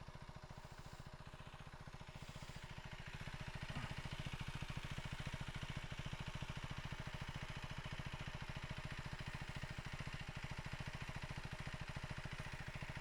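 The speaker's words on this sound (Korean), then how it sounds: "아, 그리고 엔진음도 한번 들어볼게요." A KTM Duke 390 motorcycle engine idling, a steady low rhythmic thrum that holds an even pulse throughout, growing slightly louder after the first few seconds and continuing alone without talk.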